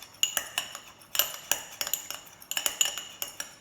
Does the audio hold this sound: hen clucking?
no